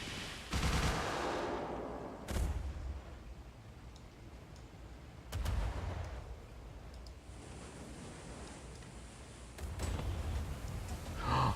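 Heavy bullets fire from a warship in the naval video game Refight: The Last Warship, coming as four loud booming bursts spaced a few seconds apart over a constant rushing, sea-like roar, with no talk.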